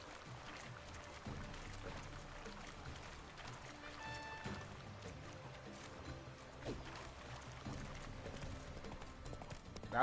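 Horse hooves in The Witcher 3: Wild Hunt, galloping under in-game music as the rider moves between checkpoints; a steady, rhythmic clip-clop runs throughout at moderate level, mixed with background score and faint ambient sounds.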